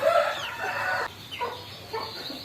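Chickens at a village house on a rainy day, with small chicks among them: loud, close clucking and squawking calls, including a drawn-out crow-like cry at the start, followed by shorter intermittent clucks.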